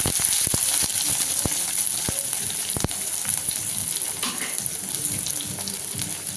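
Onion and four green chilies hit hot oil in a pan of mustard seeds and urad dal for egg paniyaram, sizzling steadily and loudly throughout, with a few sharp clicks and pops of a spoon against the pan.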